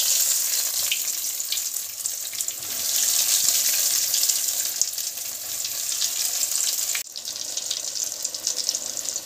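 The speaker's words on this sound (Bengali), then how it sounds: "বাকিগুলো ভেজে নিন। ফিশ ফিঙ্গারগুলো ভেজে নিয়ে" Bhetki fish fingers frying in hot oil over high heat, a steady loud sizzle with crackling bursts running throughout, briefly dipping near the end before resuming.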